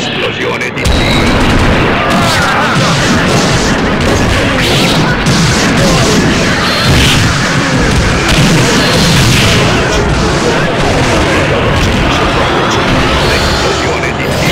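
Explosion from a special attack in a fighting video game, a loud sustained booming blast with crashing impacts that fills the whole stretch, with voices shouting over it.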